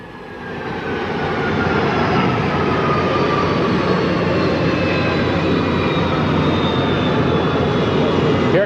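The presidential Boeing 707 jet arriving at San Diego makes a loud, sustained jet roar with a rising whine, building over the first two seconds and holding steady, heard alone.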